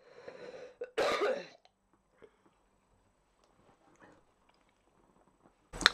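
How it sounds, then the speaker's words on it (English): A person coughs indoors at a craft table, with one sharp burst of coughing preceded by soft throat sounds and a few faint handling noises afterward, fairly close to the listener. "I'm gonna cough."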